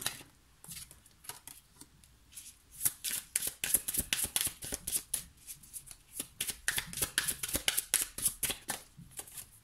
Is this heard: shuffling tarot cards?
yes